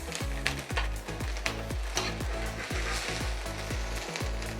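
Shrimp and peppers sizzle in a pan that may not be fully hot, with steady broadband frying hiss broken by regular wooden clacks as the contents are stirred, and a repeating low tonal pattern running underneath.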